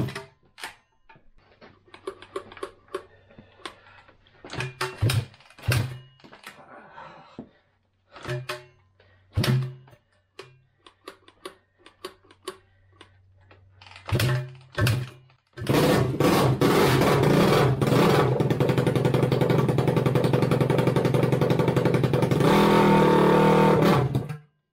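A 2007 Honda CRF150R dirt bike, still without its air box and full exhaust, takes several sharp kick-start thunks with brief coughs, then fires into a loud, steady, raspy idle close by that runs on to the end.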